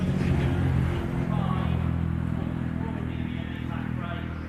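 Mini race car on a circuit during a Mini Miglia championship race, driving into the pits: a steady, low engine drone with a slight rise in revs, heard under a commentator's voice.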